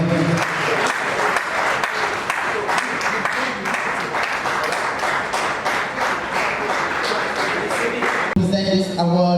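Audience applause rings out for a winner at the ACMA awards ceremony, steady dense clapping across the room that cuts off sharply near the end, where a voice takes over.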